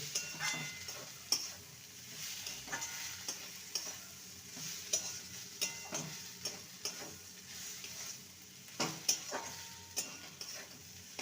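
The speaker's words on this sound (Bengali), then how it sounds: "এবারে যে ভেজে রাখা পেঁয়াজটা তুলে রেখেছিলাম সেটা দিয়ে দেবো ভালো করে মিশিয়ে নেব" Fried onion is stirred into mashed cauliflower in a pan while preparing Bengali cauliflower bharta, giving soft repeated scraping and stirring strokes over a faint steady sizzle, close and fairly quiet, with no talking.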